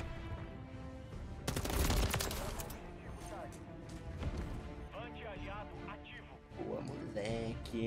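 Suppressed MCW rifle fire in Call of Duty MW3 comes as a burst of muffled rapid shots, followed by scattered game sounds under steady talking.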